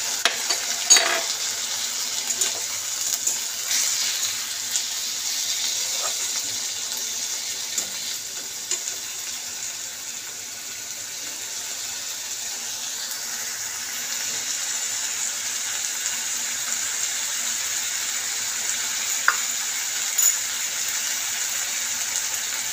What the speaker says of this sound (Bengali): এবার মশলাগুলো দিই। এটা হচ্ছে আদা রসুনের পেস্ট, এটা 2 চামচ আছে।